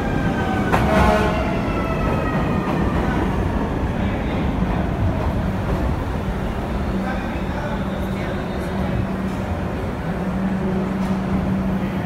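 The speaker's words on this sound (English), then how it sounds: "Express 3 train 2, New Lots Avenue, approaching the station." A New York City express 3 subway train pulls into a station, a loud continuous rumble and screech of wheels filling the platform throughout, with a voice faintly audible over the din.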